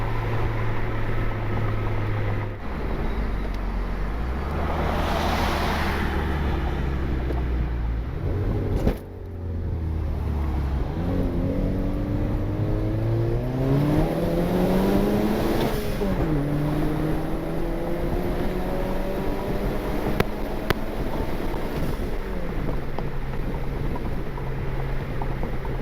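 A Honda Civic with an R18 engine, turbocharged and with its muffler deleted, revs hard, its raspy exhaust rising and falling through repeated pulls, with sharp pops and crackles of backfire between revs, loud and close.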